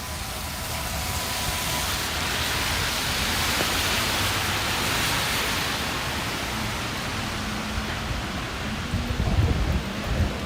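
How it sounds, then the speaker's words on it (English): Heavy rain pours steadily outdoors on a street in Williamsburg, Brooklyn, a dense continuous hiss with low rumbling underneath and a few louder bumps near the end, no voices. "I thought the rain was supposed to stop, and now we've been at it for half an hour"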